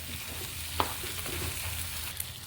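Chicken roast stirred in a hot pan with tomato sauce, pepper powder and curry leaves, a steady sizzle with one sharp clink of a spoon against the pan and a lighter tap near the end.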